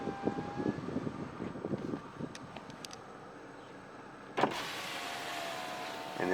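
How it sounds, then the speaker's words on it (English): Power windows lower on a Ford Fusion SEL with a close electric motor hum running for about two seconds, then a quieter hum, and a sharp thump near the end as a window stops. "So I'm going to lower all windows."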